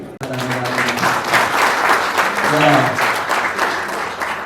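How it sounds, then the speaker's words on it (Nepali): Sustained crowd applause fills the clip, with a voice speaking faintly underneath the dense clapping. "सबैलाई हामी ताली बजाएर धन्यवाद दिन्छौँ"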